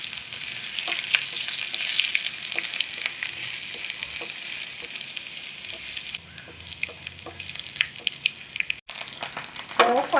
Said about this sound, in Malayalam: വറ്റൽമുളക്, കടുക് പൊട്ടണം. കുറച്ച് ഉള്ളി ഇടാം അതിലോട്ട്.